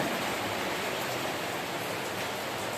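Heavy rain drums hard and continuously on a tin roof, a dense, loud, unbroken roar with no voices.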